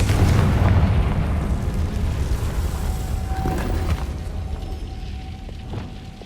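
Deep explosive booms from the Bombarda and Confringo blast spells in Hogwarts Legacy, a heavy rumbling burst at the start that rolls on and slowly decays, loud with no talk over it.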